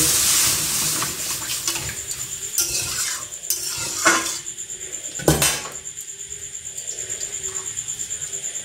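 Water poured into a pot of rice while making basanti pulao, splashing and clinking against the metal with several sharp knocks, followed by a rhythmic stirring or trickling pattern, close and moderately loud.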